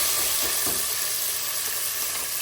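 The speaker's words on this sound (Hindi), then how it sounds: "ये सारा कुछ डाल देना और इसको हमने फिर भूनना है।" Garlic and almonds frying in a little oil, a steady close sizzle with faint crackles and light stirring throughout, no voices.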